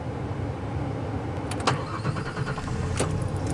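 A truck engine starts after an oil pressure switch replacement, a short crank catching into a steady idle with a few clicks, heard close and with no talking.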